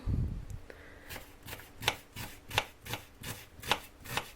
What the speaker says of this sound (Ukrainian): Так, порізали цибульку.